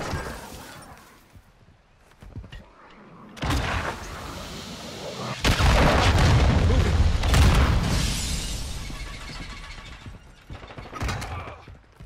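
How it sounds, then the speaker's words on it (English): A cruise missile strike in Modern Warfare II during a Search & Destroy match: quiet buildup, then a loud, sustained explosive roar with crackling debris that swells and slowly fades, followed by a few sharper bursts. "Friendly cruise missile approaching target."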